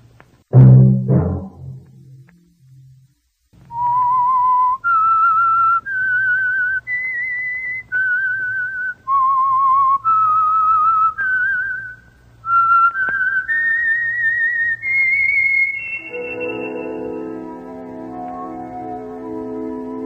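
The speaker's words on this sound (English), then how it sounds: "Let that whistle be your signal" A melodic tune whistled alone, the signature of the radio drama The Whistler, a short phrase of rising and falling notes after a brief noisy start, ending on a sustained orchestral chord.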